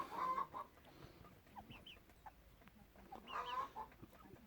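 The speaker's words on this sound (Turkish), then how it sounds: "Bunlar da civcivlerim." Young chicks on a home farm cheep and cluck in short bursts, a few close chirps with quiet gaps between them.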